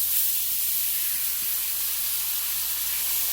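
A T-bone steak sizzles loudly in a hot Eurocast pan as it is flipped, a dense, steady frying hiss close by with no talk over it.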